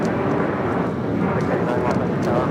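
An airliner rolls for takeoff on runway 25 at Los Angeles International Airport, a broad, steady jet engine roar heard from a distance, with voices talking over it.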